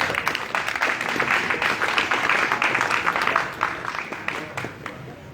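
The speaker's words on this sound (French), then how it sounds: "sous vos applaudissements" A crowd at a federation ceremony claps in dense, continuous applause with scattered louder hand claps, and voices murmur beneath, the sound thinning slightly near the end.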